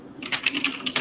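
A handful of sharp keyboard clacks, about five quick keystrokes in a loose rhythm, close by and moderately loud.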